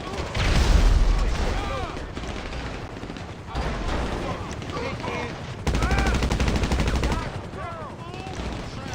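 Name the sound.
grenade explosions in GTA 5 Online video game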